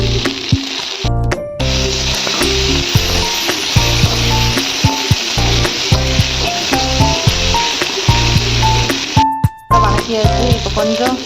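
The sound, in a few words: onion and tomato sautéing in a pan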